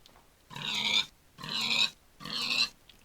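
Three evenly spaced pig oinks from a Minecraft pig mob, each about half a second long, loud and close with short gaps, no talk.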